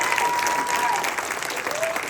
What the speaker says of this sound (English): can you give Samson a big round of applause?